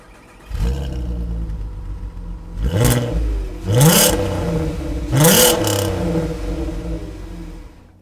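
A Volkswagen Golf 5 R32 with a V6 engine cranks and fires up, then settles into a steady idle broken by three sharp blips of the throttle, loud and close with no talk.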